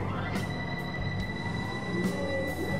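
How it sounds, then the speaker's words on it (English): A train in the Trainz 22 railway simulator rolls steadily with a droning rumble, high tonal squeals and periodic clicks of wheels over rail joints. "This one here is a train."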